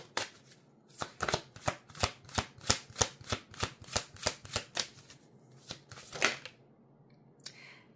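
Tarot cards are shuffled by hand in a quick run of crisp riffling flicks, about a dozen in steady rhythm, then slow down into a few softer snaps and slides as cards are drawn, close by with no talking.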